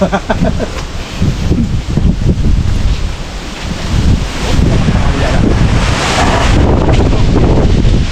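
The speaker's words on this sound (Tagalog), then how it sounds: "Hangin man." Heavy wind buffets the microphone in a loud, continuous roar with gusting rumbles throughout.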